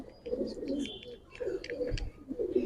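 A racing pigeon in a loft gives soft, low cooing phrases in short repeated bursts, with faint chirps from other birds in the background.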